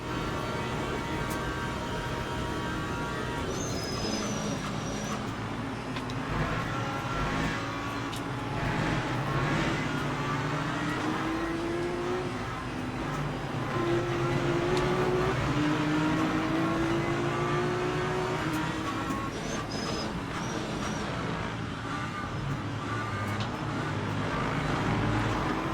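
A race car engine in the sim racing game Le Mans Ultimate revs and shifts through gears, fairly quiet and steady, with rising engine pitch sweeps and no voice over it.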